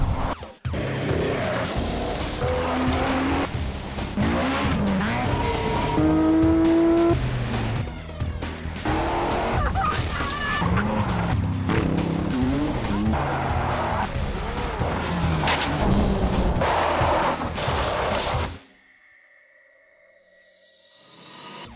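Rally cars at Dunlop Targa New Zealand 2007, a tarmac event with a couple of hundred cars, roar loudly and continuously with engines revving and tyres squealing, then the sound cuts abruptly to near silence near the end.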